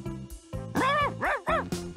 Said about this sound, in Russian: Так в этом парке... Еще и собаки есть.